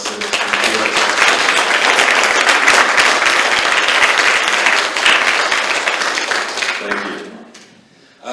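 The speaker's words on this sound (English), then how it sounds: "just a big round of applause for Bill Nelson" An audience at a quantum biofeedback world congress gives sustained, loud applause for Bill Nelson, a dense wash of clapping that holds steady before fading out near the end.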